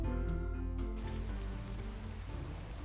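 Steady rain patters in a bus driving video game, a dense hiss over a low engine drone and a tonal hum.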